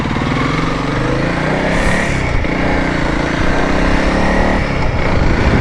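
A Honda CRF 300L dual-sport motorcycle rides a road in Rocky Mountain National Park, its engine droning loud and steady throughout with wind roar and no speech.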